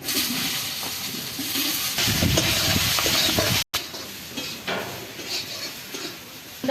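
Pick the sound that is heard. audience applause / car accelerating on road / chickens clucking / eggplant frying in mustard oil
eggplant frying in mustard oil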